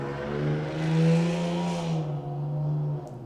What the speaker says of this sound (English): very noisy car just went by